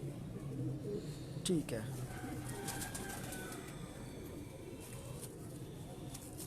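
Ferozpuri breeder pigeons, a male and female pair, coo softly in a loft in inner Lahore, with a low murmuring under nearby talk and a brief flutter near the start.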